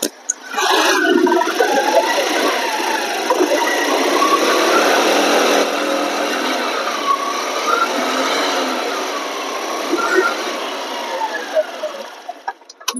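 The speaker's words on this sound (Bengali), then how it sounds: "দেখুন এই দেখুন পিক আপ আটকে আটকে হচ্ছে" A Honda 125 BS6 motorcycle engine revs up and down repeatedly with a stuttering, hesitant pickup, loud and close, its pitch rising and falling in uneven surges over steady mechanical rattle.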